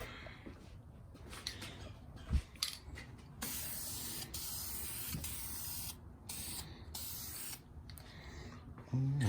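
Spray can applying coats of paint to used side skirts from a 1990 Mustang GT, a close, steady hiss in several long bursts separated by short pauses.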